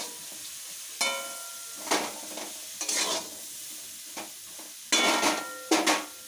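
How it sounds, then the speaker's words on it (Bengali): Bitter gourd and eggplant fry in a pan with turmeric over lowered heat, giving a steady soft sizzle broken by repeated loud scraping stirs with a utensil, close by and with no talking. "এবার উচ্ছেটা তো একটু ভাজা আছে, এবার বেগুনটা ভাজা হয়ে যাবে।"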